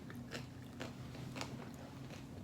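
A crunchy vegan taquito is bitten and chewed close up, giving a few sharp crisp crunches spaced out over soft mouth sounds with a low hum underneath.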